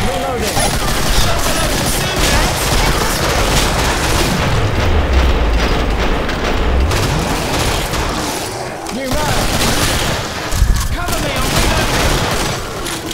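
Sustained gunfire and explosions in the zombie-shooter video game Killing Floor, loud and continuous with rattling bursts and deep booms, while a player talks over the action.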